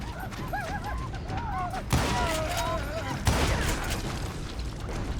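Gunfire in the Western shooter Call of Juarez: Gunslinger, with loud sharp shots near 2 and 3.3 seconds amid game music and ambience, while someone talks throughout.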